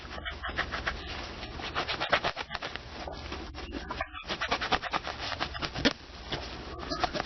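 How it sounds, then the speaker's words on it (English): A microfiber cloth rubs quickly back and forth across a game cartridge's contacts up close, making rapid, scratchy, uneven strokes with a short pause partway through. "I'm using a microfiber cloth"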